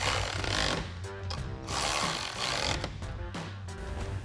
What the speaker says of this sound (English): Take your 13mm socket to tighten down your top